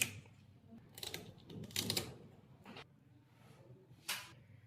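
Scissors trimming the tail of a cleaned carp in a home kitchen, giving a few sharp snips and clicks in quick bursts, close and fairly quiet, with no talking.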